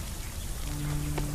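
Rain falls steadily in the video game Solarpunk, a dense patter of drops on surfaces with a faint tone rising partway through.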